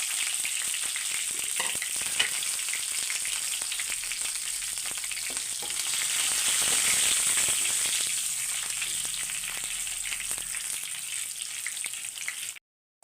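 Dense, crackling sizzle of tempering spices, garlic, curry leaves and two chillies frying in hot oil, swelling louder midway and then fading before stopping abruptly at the end.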